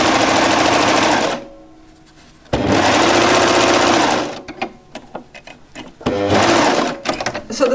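A sewing machine stitches the other side seam of a knit jumpsuit in loud, fast whirring bursts: a long run, a pause, another long run, scattered handling clicks, then a final burst.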